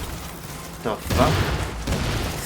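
A sticky bomb goes off in The Division's Dark Zone PvP, a loud booming burst about a second in, followed by rumbling gunfire-like crackle and a second surge shortly after.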